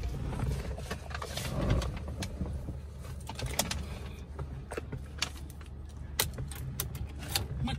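Metal car keys jangle and clink in a car whose starter fails on a weak battery, with a steady low rumble underneath and scattered sharp clicks throughout.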